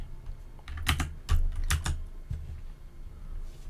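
Keys clatter on a computer keyboard in a short, uneven burst of several quick strokes, close and fairly clear with no talking.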